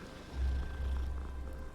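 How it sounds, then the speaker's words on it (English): A calico cat purring in the video game Hogwarts Legacy, a low, close, continuous rumbling purr that swells after a quiet start and holds steady, with no talking over it. "Was that a fucking cat? Oh, it's a calico."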